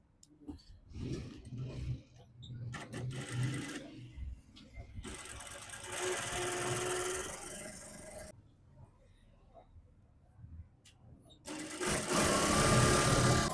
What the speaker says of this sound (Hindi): ये बटन टेक को सिलाई लगा लेते हैं